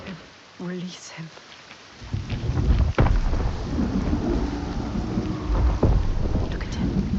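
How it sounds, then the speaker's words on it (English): A thunderstorm in the video game Senua's Saga: Hellblade II, heavy rain hissing steadily with sharp thunder cracks near three and six seconds, following a brief quieter opening with faint voices. "The constant storm."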